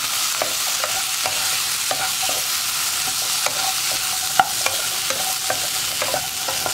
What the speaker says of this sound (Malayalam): ഉരുളക്കിഴങ്ങ് ചേർത്ത് നന്നായിട്ട് ഇളക്കി മിക്സ് ചെയ്യുക